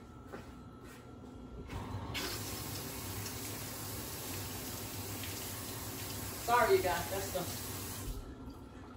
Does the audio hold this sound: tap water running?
yes